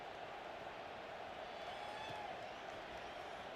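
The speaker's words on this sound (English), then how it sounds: "this crowd is buzzing after that last score" A football stadium crowd buzzes after a score and extra point, a steady, distant wash of many voices with faint cheering, continuous throughout.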